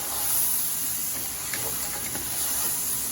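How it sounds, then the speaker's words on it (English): Steady hissing sizzle from rice frying in a hot pan, continuous and fairly loud throughout with no voices. "you see that sizzling?"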